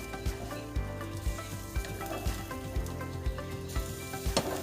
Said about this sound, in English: Just gonna add the pasta right to the pan.